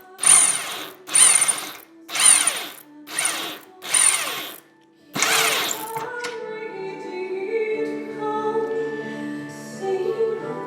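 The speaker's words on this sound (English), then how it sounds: "And then I just use pliers to grab the leftover head, reverse the drill, and away you go." A power drill running in reverse to back out a rivet whirs in six short, loud bursts with brief pauses, then a steady quieter music-like tone continues after.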